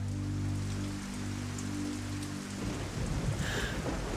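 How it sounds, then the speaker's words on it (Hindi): Torrential rain pours down steadily as a dense, loud hiss, with a low rumble underneath that fades partway through, after which heavier splashing takes over. "कुछ ही देर में मूसलाधार बारिश शुरू हो जाती है और हर तरफ जल थल हो जाता है"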